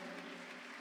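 Brief burst of church congregation applause, a dense even wash of many hands clapping at a faint level.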